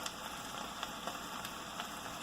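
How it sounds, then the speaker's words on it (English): A steady hissing, sizzling hum of an ice machine running nearby, with faint crackles and pops on top and no talking. "Oh no, that's my ice machine."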